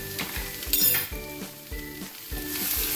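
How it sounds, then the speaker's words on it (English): Vegetables stir-fry in a pan with chili powder and paprika: a loud, close sizzle with rhythmic scraping and clinking of a utensil against the pan, and no one speaking. "Stir fry for a few minutes, then cover."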